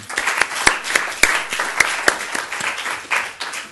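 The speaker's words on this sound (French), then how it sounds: "je vous demande de les applaudir" An audience applauds with a moderate burst of hand clapping, steady and sustained with a few sharp louder claps, heard on its own without talk.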